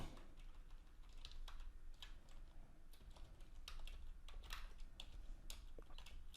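Programming code being typed on a computer keyboard for an IoT touch sensor project, a steady stream of close, crisp key clicks in irregular quick bursts with no talking.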